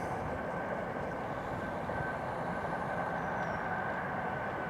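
A distant South West Trains train rumbles steadily past below a hillside at Box Hill, a low continuous drone with a faint tonal hum, heard from far off and quiet.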